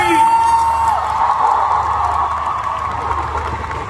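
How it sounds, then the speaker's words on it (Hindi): A large Femina Miss India 2023 pageant crowd claps, cheers and whoops loudly in a sustained roar for the judges, with a held cheering tone rising above the clapping. "एक बार जोरदार तालियां हमारे जजेस के लिए"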